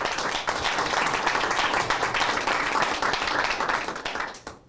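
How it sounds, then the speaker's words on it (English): A round of applause at a school board meeting honoring a teacher: steady crowd clapping fills the room, broad and even, then fades out near the end. "let's give her a big round of applause"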